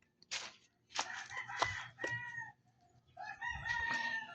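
A rooster crows several times in quick succession, close and fairly loud, with strained, breaking cries and a few clucks between them on a farmyard.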